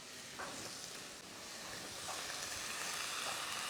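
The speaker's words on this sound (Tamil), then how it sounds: "இப்போ வெங்காயம் லைட்டாக வதங்கினதும் ப்ராக்கலி சேர்த்துக்கலாம்." Onion and broccoli sauté in a pan, giving a steady close sizzle with soft hiss and a few faint stirring scrapes, alone without talk.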